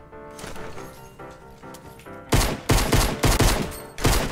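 Rapid shotgun blasts from a Fortnite match: several sharp, loud reports in quick succession over game background sound, with no talking.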